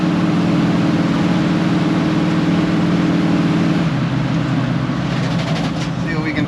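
A 1972 Chevy Suburban with tall rear tires drones along at low RPM, a loud steady engine hum with road rumble that drops slightly in pitch partway through.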